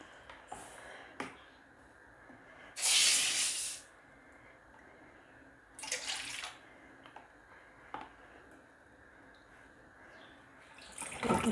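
Water pours from a cup into a pan while preparing watermelon rind murabba, coming in a few short hissing splashes separated by quiet pauses, close and fairly faint.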